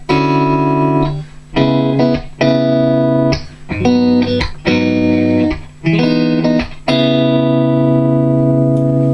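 Clean electric guitar through a Diezel Einstein 100-watt EL34 tube amplifier head on its clean channel, playing ringing chords and single notes, each struck firmly and left to sustain, with short gaps between phrases.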